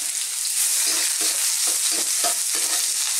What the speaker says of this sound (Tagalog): Magigisa lang po tayo.